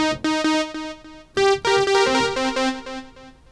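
Bright notes from a Yamaha EX5 synthesizer ring out in a short melodic phrase, each one smeared by a shimmering stereo chorus and repeating left and right delay echoes that trail behind.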